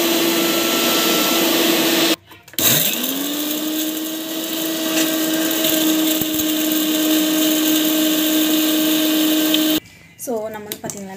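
A mixer grinder whirs steadily as it grinds herbs into powder for a homemade hair oil, loud and continuous, cutting off briefly once before running on, then stopping with faint talk at the end.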